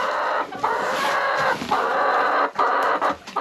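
Chickens cluck and squawk close by in a steady stream, with a rooster crowing among them and no talking.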